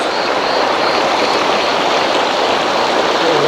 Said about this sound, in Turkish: Arkadaşlar su sesinden umarım e, sesim iyi geliyordur. Gördüğünüz gibi akan suyu görüyorsunuz.